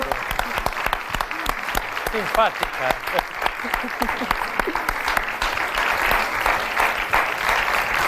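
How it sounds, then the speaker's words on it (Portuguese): A studio audience on a Portuguese afternoon television show applauds warmly, with continuous clapping throughout and a voice speaking briefly over it. "Um grande aplauso."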